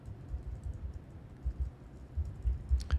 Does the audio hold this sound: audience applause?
no